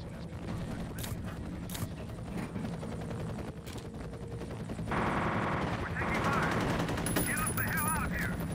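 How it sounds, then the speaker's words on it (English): Gunfire in F.E.A.R., heard as scattered sharp shots and bursts under a steady rumble like a helicopter, with game voices talking and a rising radio-like chatter toward the end. "We're taking fire."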